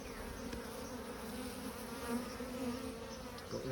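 Worker honey bees buzzing around a queen cage while packaged bees are installed, a steady, faint, close hum with no pauses and no talk.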